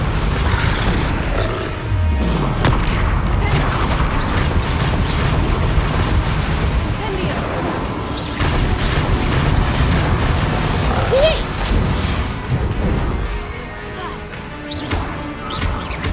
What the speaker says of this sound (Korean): 폭탄!